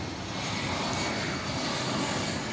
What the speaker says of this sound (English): Another E-jet for us.